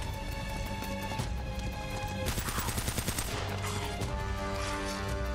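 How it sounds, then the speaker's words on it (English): Rapid gunfire in the Uncharted: Drake's Fortune video game while the character runs away, steady bursts of shots mixed with footsteps and game music, loud and continuous throughout. "So like when you're running away from him, just shoot behind you."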